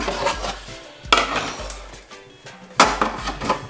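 Clattering dishes and pans being put away in kitchen cupboards, handled and set down, with a few sharp knocks amid scraping and rattling, close by.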